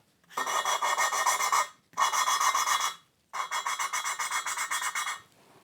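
Rhythmic gritty rasping of a cylinder-head engine valve being lapped with fine grinding paste, in three long bursts of quick back-and-forth strokes separated by brief pauses.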